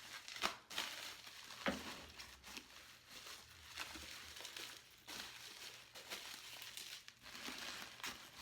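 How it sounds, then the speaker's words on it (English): Bubble wrap crinkles and rustles steadily while glass pumpkins are wrapped and packed, a soft close crackling with a few sharper crunches and no speech. "I need a little bit more bubble wrap there."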